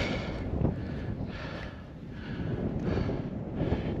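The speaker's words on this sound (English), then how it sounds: "Beautiful day out here. A little breezy, but not too bad." Breezy wind buffets the microphone on a coastal mountain-biking trail in the Marin headlands, a low rumbling roar that swells and eases in gusts about every second, with no talk.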